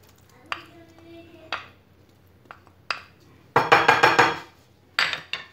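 A utensil clinks and scrapes against a bowl while mixing milk, olive oil and fried onion for a savory cake batter. There are scattered taps at first, then a dense burst of rapid stirring clatter and a few final knocks, close up.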